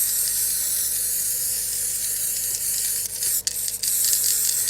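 A spray can with a blocked cap hisses steadily, with a harsh, uneven spit toward the end from the clogged nozzle; close and loud, no talking.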